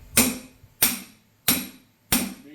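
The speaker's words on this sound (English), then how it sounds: "Now you're supposed to swing this hammer." Four sharp metallic hammer strikes on a punch, working on a 1986 Suburban, evenly spaced about two-thirds of a second apart, each ringing briefly before fading, close and loud.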